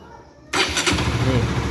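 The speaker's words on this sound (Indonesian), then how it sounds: "Sekali kita hidupin motor nih" A fuel-injected Honda Sonic motorcycle with a K56 engine catches suddenly after a brief quiet moment, then settles into a steady, close-up idle.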